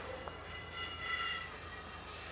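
A fast-moving train rolls along the track with a steady, continuous rumble and rail hiss, faint in level and heard alone without any voices.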